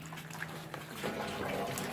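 Excess water drains out of the holes of a raised vegetable planter built from scrap wood. It makes a faint, steady trickling wash that grows slightly fuller partway through.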